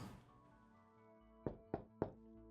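Three dull knocks on a wall in a video game, in quick succession, close by, following a fading resonant tone.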